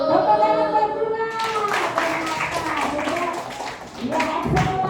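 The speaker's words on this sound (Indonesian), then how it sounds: "Tepuk tangan buat Bunga." A classroom of students claps for a classmate, a burst of group clapping entering after a voice and continuing as a scattered patter, with talk and voices mixed in.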